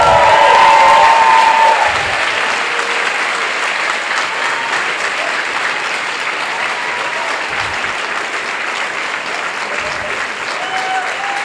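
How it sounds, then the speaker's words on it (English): A crowd of spectators at the Western States pre-race meeting gives the ultramarathon runners loud, sustained applause, strongest at the start and then holding as a thick, even roar of clapping. "Let's give these runners a massive round of applause"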